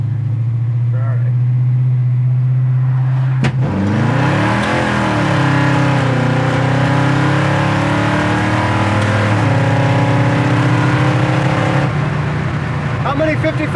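A 1955 Chevy V8 engine idles loud and close, then revs up and holds a strong, steady roar as the car accelerates, with a voice faintly underneath.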